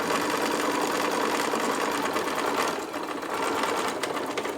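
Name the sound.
sewing machine backstitching fabric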